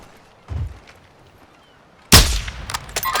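Gunfire in a ranked online shooter match: a muffled shot, a pause, then a loud sharp blast followed by several more rapid reports fading into ringing echoes.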